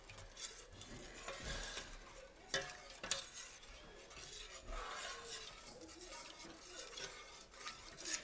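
Milk being stirred into a mac and cheese sauce in a pot, a steady scraping swish of utensil against the pan with a few sharper clinks, close and moderately loud with no talking.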